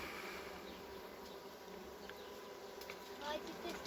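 A honeybee colony nesting inside a house wall buzzes up close in a continuous dense drone, with a few individual bees whirring past.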